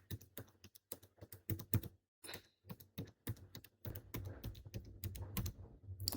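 Steady typing on a computer keyboard, close and clear, with rapid irregular key clacks broken by a brief pause before the tapping resumes.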